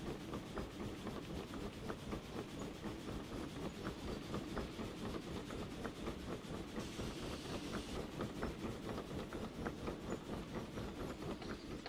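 Train running in the Derail Valley railway simulator, with a continuous rumbling roll and steady rhythmic clicks of wheels over rail joints, close and even throughout and with no talk.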